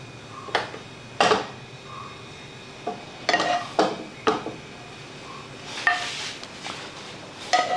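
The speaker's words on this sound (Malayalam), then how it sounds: "ഇനി അത് നമ്മൾ പുഡിംഗ് ഉണ്ടാക്കുന്ന പാത്രത്തിലേക്ക് മാറ്റുകയാണ്" Metal pan and utensil clinks and scrapes as freshly caramelized sugar is moved into a pudding dish for caramel pudding, with several sharp knocks spaced irregularly and a few softer scrapes between them, close by with no talk.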